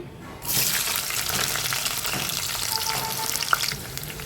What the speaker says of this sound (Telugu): ఉల్లిపాయలు ఫ్రై అయినాయండి